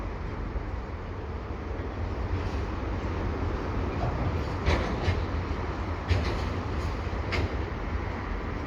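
A CPKC eastbound freight train hauling clean auto racks rolls by at the Dorval ramps, a fairly quiet, continuous rumble with a few sharp clanks near the end.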